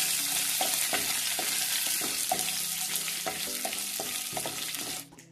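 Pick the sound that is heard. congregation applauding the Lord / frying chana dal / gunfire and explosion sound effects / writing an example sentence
frying chana dal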